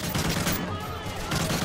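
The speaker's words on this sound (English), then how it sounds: "They're just shooting pedestrians." Dense gunfire in Call of Duty Modern Warfare 3, a steady crackle of overlapping shots with a low rumble beneath, running continuously and loud throughout.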